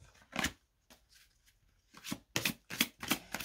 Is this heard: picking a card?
yes